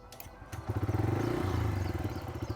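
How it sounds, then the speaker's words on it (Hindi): A Bajaj Freedom CNG motorcycle, fuel filler cap left open, cranks and fires after a brief pause, then settles into a steady, close, throbbing idle. "फ्यूल फिलर कैप भले ही ओपन है, मैं मोटरसाइकिल को फिर भी शुरू ज़रूर कर सकता हूँ"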